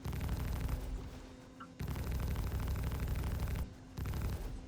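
Ship-mounted guns firing in the Star Citizen video game, dense continuous rumbling fusillades in two long bursts and a shorter one, with brief gaps between.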